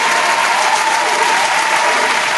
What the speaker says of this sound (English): Let's welcome a round of applause.